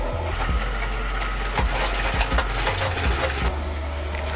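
A sewing machine stitches fabric for a shirt with a steady close whirring and irregular clicks and knocks throughout, loud and continuous with no talk.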